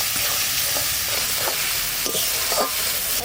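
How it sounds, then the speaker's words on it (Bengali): Spice masala of tomato, turmeric and salt is fried in a pan, giving a loud, dense sizzle with rhythmic scraping stirs, close up and without talk. "এবার ভালো করে কষাবো মশলাটা।"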